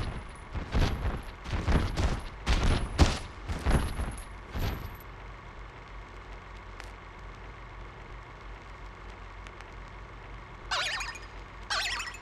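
Toy cannons in Kingdom Hearts II on PS2 fire a rapid burst of cannon-like booms in a quick series, then fade to a steady hum, with a couple of faint hisses near the end.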